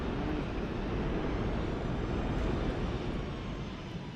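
Airliner thrust reversers roaring in a flight simulator game, a dense, steady jet-engine rumble heard alone for the whole span without voices.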